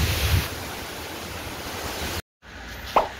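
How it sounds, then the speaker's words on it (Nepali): Phamrong waterfall sends up a steady, broad roar of rushing water, like a wind-blown surf, that fills the scene before a brief cut to silence and a quieter stretch of the same wash. "अहिले चाहिँ फामरुङ फल्स आइपुग्यो हामी"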